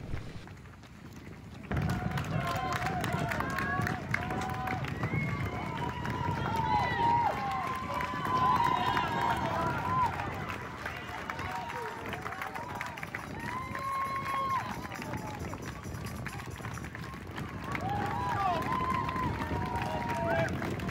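Footsteps of a pack of runners in a half marathon race, a steady rapid patter of many feet under a constant outdoor wash, with occasional voices nearby.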